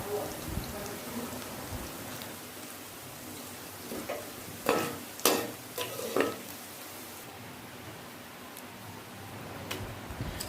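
Boondi for motichur laddu fries in hot oil, giving a quiet, constant, rain-like crackle with a cluster of sharper ladle knocks and scrapes in the middle as it is gently stirred.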